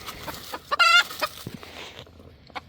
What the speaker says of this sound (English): What are you clucking about?